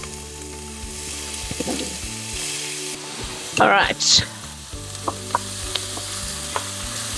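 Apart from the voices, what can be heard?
onions sizzling in hot vegetable oil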